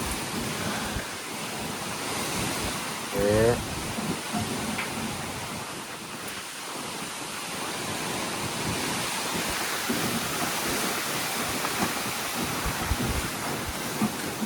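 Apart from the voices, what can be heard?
strong storm wind with rain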